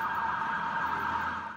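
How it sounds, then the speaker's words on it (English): Emergency sirens wail steadily at night, a sustained, fairly loud tone at a moderate distance, heard alone without talk, amid a city scene of burning cars and homes after a fuel tanker explosion. "Sirens wailing into the night as cars and homes are engulfed in flames."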